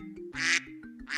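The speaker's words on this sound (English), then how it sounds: "Then the ducks came waddling." Ducks quack in a few loud, nasal bursts close by, with brief pauses between calls.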